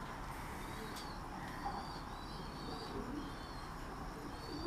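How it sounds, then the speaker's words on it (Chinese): Homing pigeons in a loft, including a young pigeon, give soft, faint coos and a few chirps against a quiet, steady background hiss. "这个是小鸽子"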